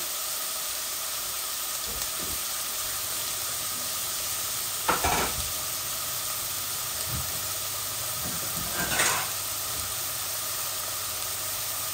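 Malabar spinach frying in a pan with shrimp, garlic and onion, a steady close sizzling hiss punctuated by a few louder bursts as the contents are stirred.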